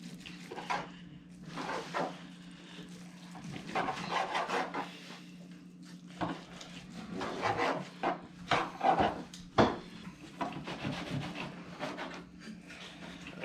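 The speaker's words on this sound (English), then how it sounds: "I gotta get better practice at cutting the old brisket up." A knife saws through smoked Texas crisp-style brisket on a wooden board, with repeated scraping, rasping strokes in irregular bursts over a low steady hum, close and moderately loud.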